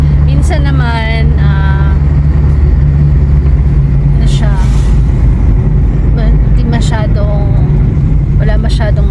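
Steady car and vehicle traffic on a busy road, heard as a loud continuous engine drone close by, with voices talking over it throughout.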